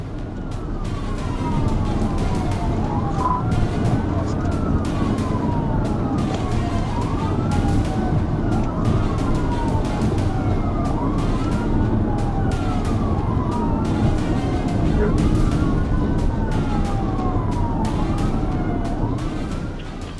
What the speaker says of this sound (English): When lights and siren were activated